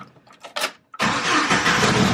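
A Jeep engine cranks briefly after a few quiet clicks, then catches and settles into a steady, close idle.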